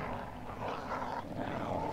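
Dogs in the Wallace and Gromit underground holiday game growl and whimper at low volume, a continuous rough snarling that stays fairly faint throughout.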